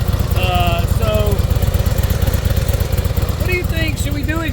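A Harley CVO Road Glide RR with a factory full titanium Akrapovic exhaust idles close up with a rapid, even, loping pulse, fairly loud and continuous, while people talk over it.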